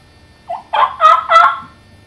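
A voice imitates a turkey, making a short cluck followed by three quick, loud yelping notes, alone with nothing in the background.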